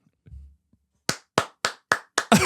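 One person claps their hands six times, sharp and close, evenly spaced, the last slap a little heavier; faint murmuring precedes the claps.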